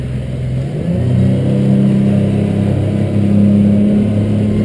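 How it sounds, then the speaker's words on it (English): A Stabicraft 2880 Pilothouse boat powers up on a single outboard motor with the starboard motor off, giving a loud, steady engine drone that swells slightly as the throttle opens, with no voices. "So now I'm going to give it some gas."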